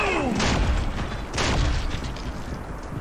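Shotgun blasts in the mobile shooter Shadowgun Legends: two heavy, booming shots about a second apart, close and loud, each followed by a rumbling decay over steady game noise.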